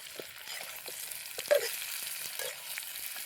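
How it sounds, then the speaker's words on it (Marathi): Eggplant pieces being sautéed in a pan for a spicy Marathi khar vangi dish, giving a steady low sizzle with a few soft stirring scrapes and clinks, close and moderately quiet, with no talking. "वांगी घालूनच आहे ना आपल्याला चांगलं असं परतून घ्यायचं."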